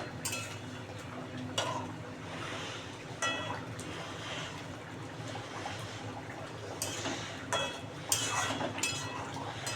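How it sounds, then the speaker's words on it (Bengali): Raw hilsa curry is stirred in a pan on the stove with light clinks of a spoon against metal at irregular intervals over a steady sizzle, and a lid is set down. "একটু নেড়ে দিই, নেড়ে আবার ঢাকা দিয়ে দেবো"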